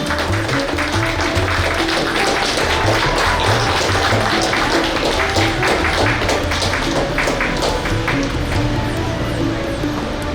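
Dense, continuous applause from a seated audience at the inauguration of a savings and credit cooperative's annual general meeting, loud and sustained with many hands clapping at once over a low background hum.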